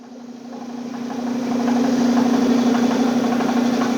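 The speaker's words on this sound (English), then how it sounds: "I'm going to go ahead and kick on the lathe" A wood lathe spins up to buff the finish on a maple and walnut bowl, its steady motor hum building over the first couple of seconds and then holding at an even, close drone.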